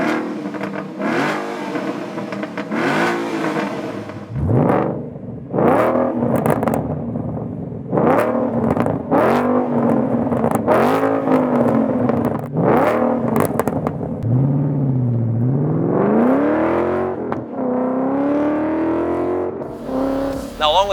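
A Ford Mustang V8 with Cooks headers and MagnaFlow exhaust revs repeatedly up close, each aggressive blip rising and falling, ending in a longer climbing rev.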